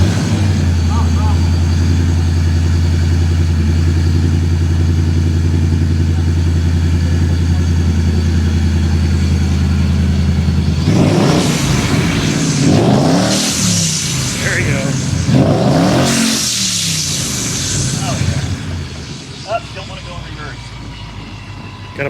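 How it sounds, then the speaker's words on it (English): A cold Ford Mustang GT with a manual clutch idles steadily and loud, then is revved hard in several surging bursts that rise and fall before settling back, with people talking nearby. "It's cold and you just sat there and revved it up."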